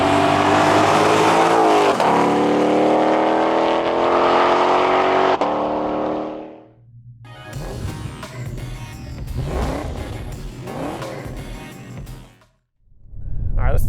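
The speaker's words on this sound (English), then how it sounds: "We are now inside the Rapid Red 20 GT500." A Rapid Red 2020 Ford Shelby GT500 roars loudly under hard acceleration, its engine note climbing, then cuts out briefly before revving and surging again in several bursts, with a short drop near the end.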